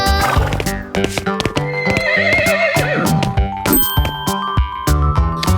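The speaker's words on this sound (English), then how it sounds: "With a neigh here and a neigh there, here a neigh, there a neigh, everywhere a neigh" A loud, close horse whinny rises and falls in the nursery rhyme Old MacDonald Had a Farm, mixed with bright jingling tones and clip-clop beats over a musical backing.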